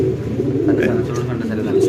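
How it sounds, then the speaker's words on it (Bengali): White racer pigeons cooing, soft low repeated coos close by with a person talking over them. "কত সুন্দর হোয়াইট রেসের কবুতর"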